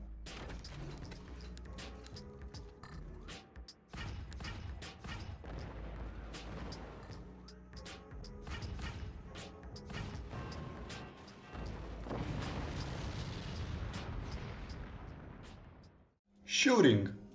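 Mortar fire through portals in the game Forts: a rapid series of sharp booms and crashing impacts across many seconds, dense and loud, ending with a brief metallic clatter.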